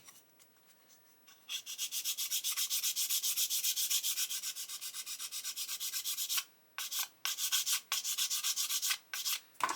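Steady abrasive sanding strokes rub against a hard plastic model panel, continuous at first, then broken into short repeated passes near the end.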